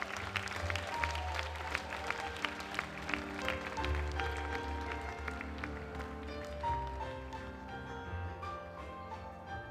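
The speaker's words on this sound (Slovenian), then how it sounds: "Dame in gospodje, velik aplavz za 4. B." Audience applause at a school graduation ceremony where diplomas are handed out: steady crowd clapping throughout, moderately loud, layered over background music.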